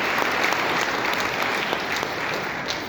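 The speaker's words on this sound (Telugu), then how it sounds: "ఒకసారి గ్రేట్ క్లాప్స్ అండి" Sustained dense clapping from a meeting audience, loud and even throughout, many hands blending into a steady wash of applause.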